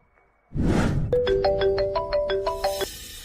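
A phone ringtone for an incoming call, a clear repeating melodic chime of bright tones that plays loudly and alone for about two seconds after a short burst of rustling.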